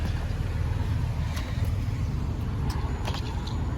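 The engine of a 2018 Holden Commodore VXR runs at a steady idle, giving a constant low rumble that sits close and even throughout, with a few faint higher clicks above it.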